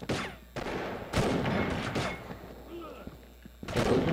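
L11 Ghillie sniper rifle fire in the Combat Arms shooter game: several sharp, separate shots with ringing tails spread across a few seconds, fairly faint, with game noise between them.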